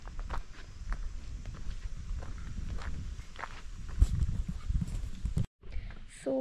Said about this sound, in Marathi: समोर बघा बैल आहे